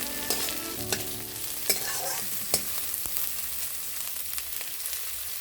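Green chilies fry in a pan with chopped onion, giving a steady crackling sizzle with scattered sharp pops and utensil knocks from stirring, close and moderately loud with no talking.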